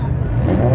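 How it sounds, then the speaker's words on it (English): A BMW G80 engine revs loudly and continuously in a short burst at a car meet, a steady mid-pitched roar close by. "And the revving never stops."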